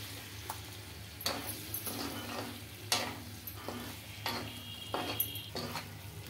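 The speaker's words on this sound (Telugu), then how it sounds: "ఇంకా ఈ మసాలా వేసుకొని బాగా ఒక 5 నిమిషాలు బాగా ఫ్రై చేసుకోవాలండి కలుపుతూ" Chicken frying in masala while being stirred, Kumari aunty style chicken fry: a steady close sizzle broken by repeated scraping strokes and light clinks of a utensil against the pan, no voices.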